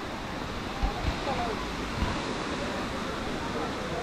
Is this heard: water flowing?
yes